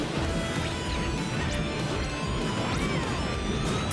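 Hits and impact sounds from a Super Smash Bros. match where ROB and Yoshi trade up smash attacks, a busy, loud run of crashes and whacks over a constant game-audio bed, with no talk.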